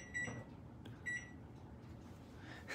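A kitchen timer gives short electronic beeps as it is set for 25 minutes, two or three brief high tones spaced apart over a quiet room background.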